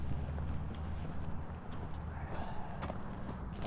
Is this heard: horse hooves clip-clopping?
yes